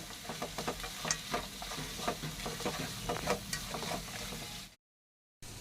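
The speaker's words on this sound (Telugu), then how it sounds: "పసుపు వేసిన తర్వాత ఒకసారి ఇలా మిక్స్ చేసేసి" Turmeric is stirred into a sizzling mixture in a pan for mango pulihora, giving a close, steady frying hiss broken by repeated scraping strokes before the sound cuts out briefly.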